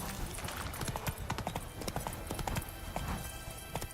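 Horse hooves galloping in The Witcher 3: Wild Hunt, a rapid, steady clip-clop rhythm of hoofbeats running continuously at moderate volume, with faint game ambience beneath.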